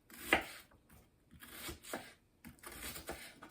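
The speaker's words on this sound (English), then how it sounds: "I'm just going to roughly chop up this onion" A knife roughly chops an onion on a board, with soft irregular thuds and scraping cuts arriving in short bursts separated by pauses, close and fairly quiet.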